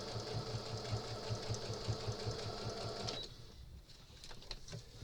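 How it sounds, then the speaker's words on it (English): Sewing machine stitching a rag lap quilt, a fast, even mechanical chatter close up for about three seconds before stopping, leaving a quieter hum with faint clicks. "it's stitching because I didn't let my thread come out of the needle"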